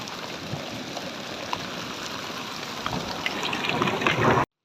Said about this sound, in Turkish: Hafif bir ince yağmur yağıyor.